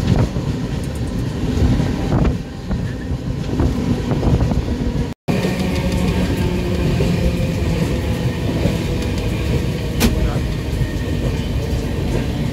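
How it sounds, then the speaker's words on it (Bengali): Kanchan Kanya Express passenger train pulling into Siliguri Junction in light rain, with a steady low rumble of rolling carriages and wind buffeting the microphone throughout, and a brief dropout midway. "আমাদের ট্রেন এখন এসে পৌঁছালো শিলিগুড়ি জাংশনে"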